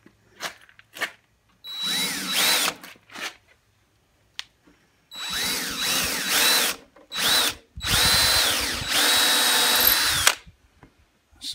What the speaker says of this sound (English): You can actually start this with a smaller drill bit.